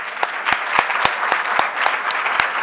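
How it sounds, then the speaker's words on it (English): Audience applause for the speakers at the close of a health and biomedical research symposium session, a steady wash of many hands clapping with a few sharper, louder claps standing out, heard alone without talk. "can we just give all the speakers the last round of applause?"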